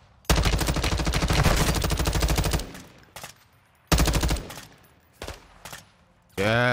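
Zofia's light machine gun in Rainbow Six Siege fires long, loud automatic bursts of rapid rhythmic shots, broken by pauses and shorter bursts, ending in a brief distorted electronic sound.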